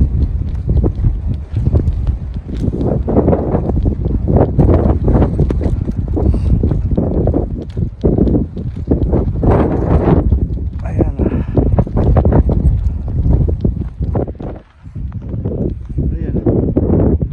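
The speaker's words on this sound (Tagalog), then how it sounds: "Sobrang hangin talaga." Strong gusty wind roars and buffets the microphone during a wet snow squall in Edmonton, loud and continuous, while a person speaks over it.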